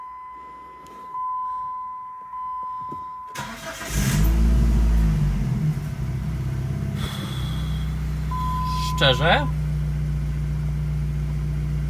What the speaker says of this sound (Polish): Zaraz odpalę auto i zobaczę, czy jakieś są przedmuchy.